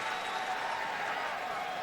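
Tennis crowd at the US Open roaring steadily in support of Roger Federer during a semifinal against Djokovic, a dense, continuous wash of cheering and applause filling the stadium at high level throughout.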